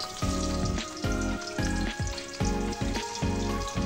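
Onions frying in a kadhai, a loud close sizzle with rhythmic thumps and scrapes of a spatula roughly every half second, all steady and without voices.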